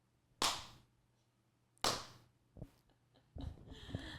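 A few sharp hand claps ring out in a quiet room, two strong single claps about a second and a half apart, then softer claps and scuffling sounds close by.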